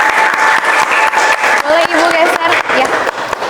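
A studio audience claps steadily to welcome a female guest onto an indoor talk show set, the dense applause running throughout while people talk over it.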